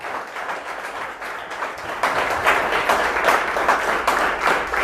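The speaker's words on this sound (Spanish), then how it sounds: "Denle un aplauso a aquel que vive." A church congregation applauding during a Spanish-language service, a steady dense wash of clapping that swells louder midway and carries on throughout.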